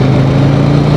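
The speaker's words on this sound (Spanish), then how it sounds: "el rugir de este motor es una cosa impresionante" A Yamaha Virago XV750 cruiser motorcycle engine rumbles loud and close, a steady deep throb held for a second with no voices.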